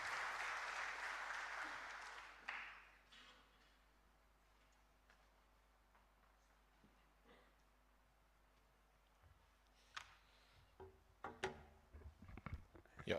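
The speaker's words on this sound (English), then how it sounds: "A good hand clap as he makes his way." Audience applause at a Huawei LEAP Job Fair event in Nairobi, a broad burst of clapping that fades within a few seconds, followed by quiet room tone and scattered knocks and handling noises.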